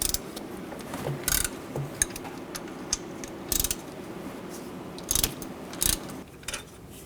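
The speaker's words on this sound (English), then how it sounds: "Use a 15mm socket." A 15mm socket ratchet turning alternator bolts on a 2007 Chevy Silverado 1500 Classic, clicking and whirring in short irregular bursts, close and fairly quiet against a low background hum.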